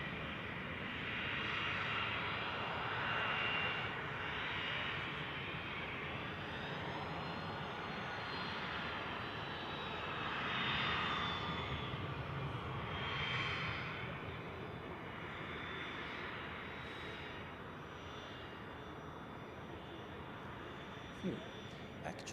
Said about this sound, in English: We almost missed the first heavy landing. Turkish cargo from Istanbul.